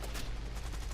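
Rapid cannon fire from a British Spitfire fighter in the War Thunder air combat game, a dense, continuous burst of loud gunfire with no talking.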